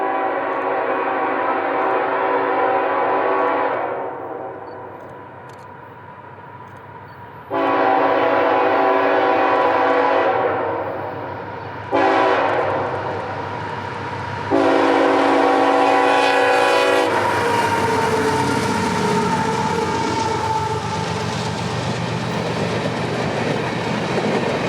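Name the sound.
CSX empty coal train E248 with horn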